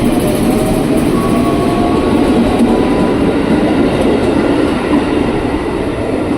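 An Indonesian KRL commuter train at a station gives a steady, loud rumble of rolling rail cars with a faint squeal of wheels, continuous throughout with no talking.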